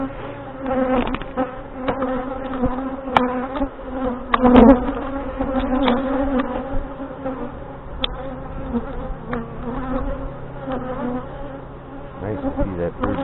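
Honey bees hum densely at an open hive during a fall feeding and inspection of a Saskatraz queen colony in northwest Wisconsin, a close, constant buzz with sharp flybys swelling and fading near the ear.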